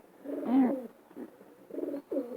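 A female long-distance racing pigeon coos in a few short, throaty bursts, one stronger call near the start followed by softer pulses, close and clear against a quiet background.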